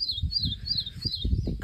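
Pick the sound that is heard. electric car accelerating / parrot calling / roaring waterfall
parrot calling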